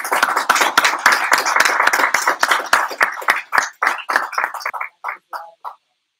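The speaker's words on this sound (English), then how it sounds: "That is live applause, actually." A live audience at a talk by Kevin Bradley of Final Exit Network applauds. The clapping starts dense and close, then thins into scattered individual claps that fade out.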